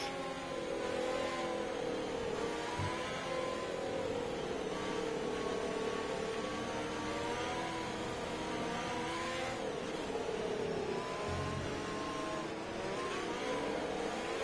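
F1 cars in F1 2020 accelerating from a green-flag race start at the USA Grand Prix, a dense roar of high-revving engines rising and falling together, loud and continuous.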